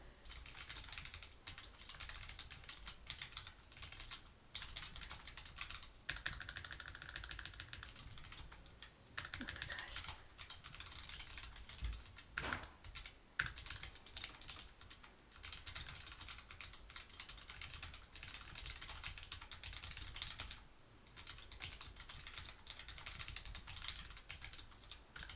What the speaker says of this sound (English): I really am horrible at typing with this